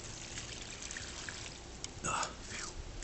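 Water poured onto a potted plant in an Arizona garden, a soft continuous trickle with a brief louder splash near the end, no speech over it.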